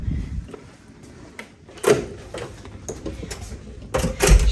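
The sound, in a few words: hotel room door being shut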